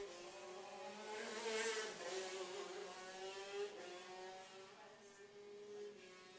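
Racing go-karts speed through a downhill corner, with a steady, buzzing engine drone and a faint rise and fall of pitch, fairly far and quiet.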